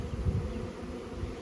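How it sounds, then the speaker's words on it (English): Bees swarming around a hive at a boat dock after light rain, a steady low insect buzz that hums continuously and close, with no talk. "you can see all the bees flying around"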